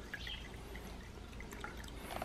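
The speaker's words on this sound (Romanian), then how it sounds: "acum punem apă plată" Still water is poured into a natural drink of honey, pollen, bee bread and sea buckthorn juice, a steady low splashing pour with light trickling and drips, quiet and continuous with no talking.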